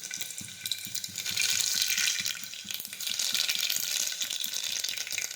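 Garlic, mustard seeds and cumin sizzle in hot oil for a bottle gourd curry, making a steady, close crackling hiss with small pops throughout and no talking.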